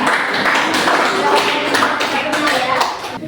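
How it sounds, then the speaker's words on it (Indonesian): In a classroom lesson on the Day of Judgement, students clap for a presenting group in a loud, continuous, choppy patter, with voices mixed in under the clapping. "tepuk tangan untuk kelompok 2"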